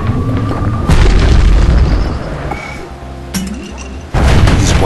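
A hand grenade in the video game Bastion goes off as a heavy, booming blast, followed by settling rumble and a second loud burst near the end.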